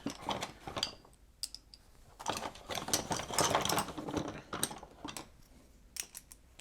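Close, irregular metallic clicks and ratcheting taps of a nut driver tightening a nut on a pinball flipper assembly during a White Water machine restoration, coming in short bursts with brief pauses.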